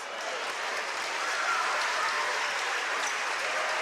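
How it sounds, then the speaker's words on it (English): Minster basketball fans clap in the stands during a high school girls' game, a steady, dense wash of applause from the crowd with no break. "Minster fans like it as they clap this ball handling"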